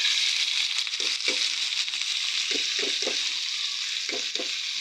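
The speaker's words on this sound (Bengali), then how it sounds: "এখন এটাকে কতক্ষণ তেলে ভেজে নিব, ভালো করে ভেজে নিব 2-3 মিনিট।" Onion, potato, green chilli and loitta fish fry in oil in a kadai, giving a steady sizzle, and a series of rhythmic stirring scrapes cuts through it with no talking.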